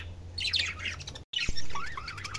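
Budgerigars in an aviary chirp and squawk in quick overlapping bursts close to the microphone, with a steady low hum underneath and no speech.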